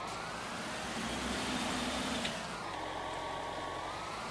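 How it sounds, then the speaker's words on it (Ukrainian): A tractor engine drones steadily under heavy load while pulling a plow in Farming Simulator 19, a continuous loud rumble that shifts slightly in pitch midway. "Потужності двигуна не вистачає."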